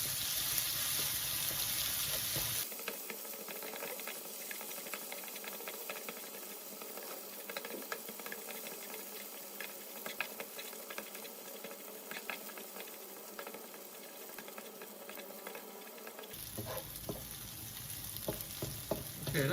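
Minced pork and holy basil stir-fry in a hot pan with a steady, close sizzle and occasional scraping stirs, continuing for about twenty seconds with no talking.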